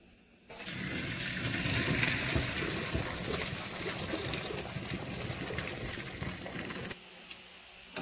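Hot water from fork-tender boiled potatoes pours and splashes out of a pot for several seconds, a loud steady gush close by that cuts off near the end.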